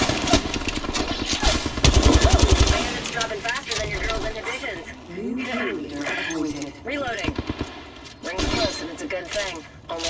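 Rapid gunfire from an Apex Legends firefight, with a burst of dense automatic shots early on and more sporadic fire afterward, layered under in-game voice callouts and background effects.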